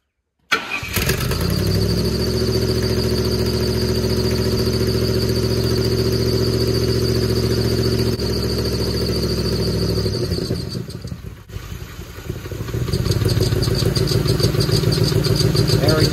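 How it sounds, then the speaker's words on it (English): A Ford Mustang GT starts up and settles into a steady idle, its exhaust manifold leak ticking and an engine knock running through the rumble, with a squeaky belt or tensioner adding a high whine; the engine briefly dips, then resumes. "Exhaust manifold and squeaky belt or tensioner. Still hearing that knock."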